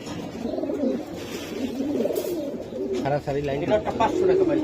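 Giribaz chila pigeons coo softly and repeatedly at a pigeon sale, the low calls running under steady nearby conversation between buyers and seller.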